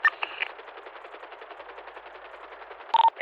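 A machine gun mounted on an attack helicopter in GTA V fires a rapid, continuous rattle during night training, sounding muffled and thin as if heard over a radio, with sharper bursts at the start and end.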